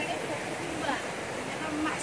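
Steady rush of the Shifen waterfall in Taiwan, a dense, even roar of falling water heard briefly and from some distance, with no break in the sound.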